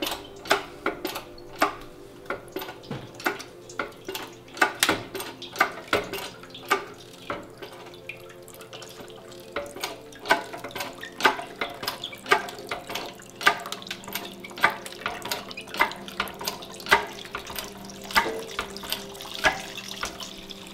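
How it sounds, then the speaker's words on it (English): Liquid herbal tincture drains through a strainer lined with a coffee filter, with irregular close drips and splashes and a faint running trickle underneath. "And the liquid is really coming out now."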